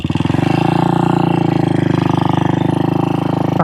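A 1966 Royal Enfield Continental GT250 motorcycle's engine runs steadily and loud, a close, even throbbing that holds for a few seconds before cutting off abruptly at the end.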